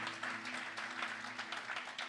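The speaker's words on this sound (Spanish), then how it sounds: "Si le pueden dar un aplauso a Dios." A church congregation applauds in praise during a bilingual Spanish and English sermon: a dense, steady wash of many hands clapping throughout, moderately close, with a low sustained hum beneath and no voices.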